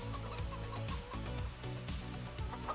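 Chickens in the Farming Simulator 25 video game clucking repeatedly in short throaty bursts, several birds close together in an irregular chattering rhythm, steady and fairly loud with no talk over it.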